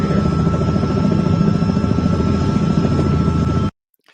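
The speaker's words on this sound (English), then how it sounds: "we don't need to hear the helicopter" Helicopter flying overhead, a loud steady rotor thrum with a high whine, continuous until it cuts off abruptly near the end, leaving silence.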